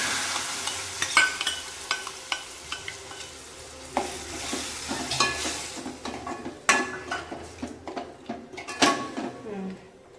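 Mutton fries with sautéed onions, curry leaves and coriander in a pan, a sizzling bed broken by irregular clanks and scrapes of a spatula stirring against the metal, loud and close.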